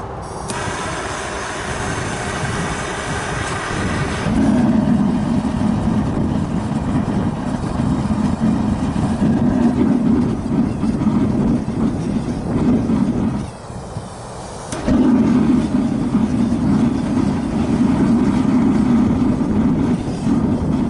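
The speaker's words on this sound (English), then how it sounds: "let's go ahead and light up the forge" A propane forge lights and runs with a loud, steady roaring rumble that cuts out briefly partway through, then resumes at full strength.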